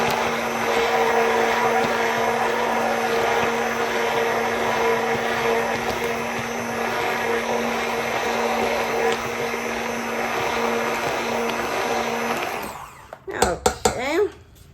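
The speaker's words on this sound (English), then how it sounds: "So stick blend for 30 seconds, rest for 3 to 5, and proceed." A handheld stick blender whirs steadily and loudly while emulsifying a homemade winter hydrating lotion, running continuously for several seconds before cutting off, followed by a few clanks and knocks.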